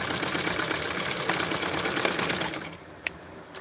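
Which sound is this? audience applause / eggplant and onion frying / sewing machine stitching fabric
sewing machine stitching fabric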